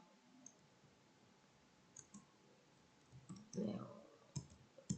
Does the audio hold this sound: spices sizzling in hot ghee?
no